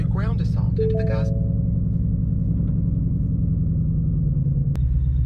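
A 2016 Ford Mustang GT with the performance pack idles with a steady, deep, loud rumble throughout, joined by a brief voice and a short tone near the start.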